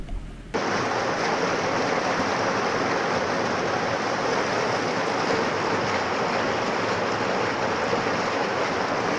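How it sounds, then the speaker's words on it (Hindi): Water gushes continuously onto a road from a water pipeline broken during drain construction, a loud, unbroken rushing roar that starts abruptly and holds steady throughout. "नाली बनाते समय पानी की पाइपलाइन टूट जाने से कई घंटों से लगातार पानी सड़कों पर बहता रहा"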